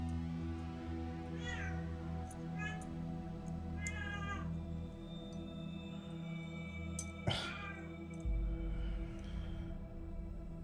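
Several cats meow in turn, short plaintive calls with rising and falling pitch, fairly close, over a steady background hum.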